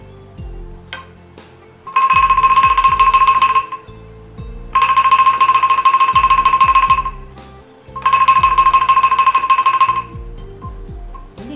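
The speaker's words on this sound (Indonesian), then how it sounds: "Teknik tengkep ini kita perlu pegang tabung yang besar dan hanya tabung yang kecil saja berbunyi begini." An angklung played with the tengkep technique, with the large tube held still so only the small bamboo tube sounds, gives three bright, rapid rattling bursts of about two seconds each, separated by short pauses and soft knocks.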